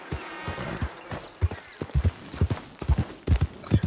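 Irregular clip-clop of horse hooves at a slow walk in the video game Red Dead Redemption 2, close and distinct, with a faint background murmur.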